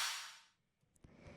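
A layered clap sample from a snare built for an electronic beat: a crisp, noisy burst that fades over about half a second, then quieter short percussive ticks and a low thump follow.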